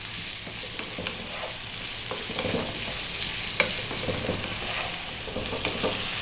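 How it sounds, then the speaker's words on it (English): Potato pieces fry over fairly high heat in a pan, a steady dense sizzle with scattered stirring scrapes and pops throughout, no voices. "we're going to fry these around on a fairly high heat for about 4 minutes or so"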